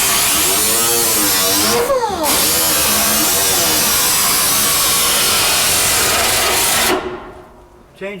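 A power tool cuts a replacement floorboard on a 1979 Ford, loud and close with a harsh continuous grinding whine that wavers in pitch, then stops abruptly near the end.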